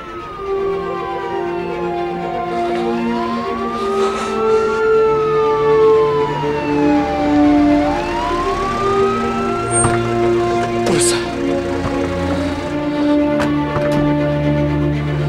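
Ambulance sirens arriving, several wailing tones sweeping up and down and overlapping, loud and close, with a steady vehicle rumble beneath and no talking.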